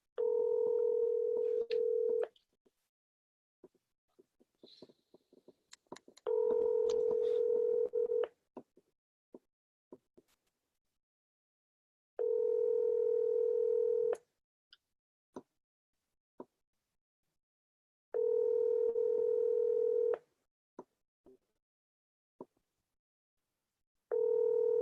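A landline telephone gives a steady dial-tone hum that stops and restarts in five separate stretches. Faint clicks and short keypad beeps fall in the quiet gaps between them.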